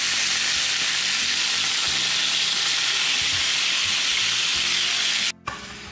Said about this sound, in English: Now we're just going to flip them and we're going to cook them on the other side for about 8 minutes.